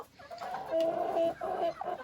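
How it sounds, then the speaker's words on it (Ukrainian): Broiler chickens, hens and roosters in a backyard poultry yard cluck and squawk close by, a steady overlapping chorus of calls with no talk over it. "Так, отут наші бройлери, курочки, півники."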